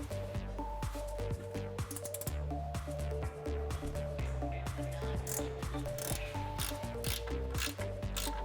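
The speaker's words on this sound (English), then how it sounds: "a ratcheting wrench helps tremendously as we're gonna remove those 3 nuts holding on the top of our strut" A ratcheting wrench clicks steadily as it backs off the 14mm nuts on top of a Tacoma's front strut assembly, with rapid close-up pawl ticks and rhythmic mechanical clatter running through the whole stretch.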